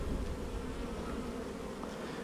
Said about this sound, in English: These bees are all chilled, laid back.